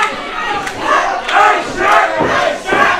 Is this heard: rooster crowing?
no